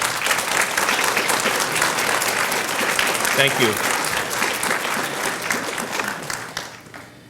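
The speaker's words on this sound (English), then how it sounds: "And let's have a little round of applause." Audience applause for faculty standing at a Duke Global Health master's commencement, dense and steady from the start, then tapering off near the end as a speaker briefly says thanks.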